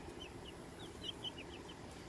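Sapphire Gem chickens make a series of short, high clucks and chirps that come in a loose run, faint and distant over a low background hiss.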